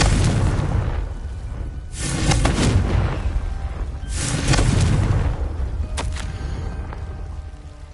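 The Confringo explosion spell in the Hogwarts Legacy video game, repeated booming blasts with rumbling low-end and crackling debris, two big eruptions followed by sharper pops, loud and close.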